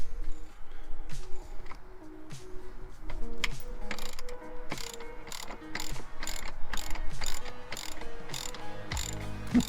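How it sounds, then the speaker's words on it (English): Ratcheting socket wrench working the bolts of a jet ski intake grate, a steady run of close, crisp clicks and rasping turns that continues through the whole stretch without speech. "So now he's going to take off the intake grate. If I remember right, it's like 4 bolts and then it's siliconed in."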